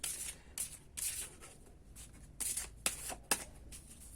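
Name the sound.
shuffling oracle cards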